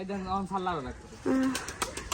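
Pigeons coo in low, wavering calls, close by, followed by a few sharp clicks and rustles.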